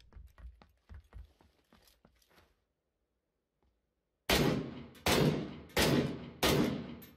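Gunfire in a PUBG-style battle royale game: a quick run of faint, sharp shots, then a pause, then four loud, booming rifle shots spaced under a second apart, each with a ringing tail.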